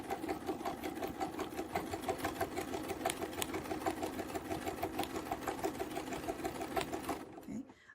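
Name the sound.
sewing machine stitching a quilt along a ruler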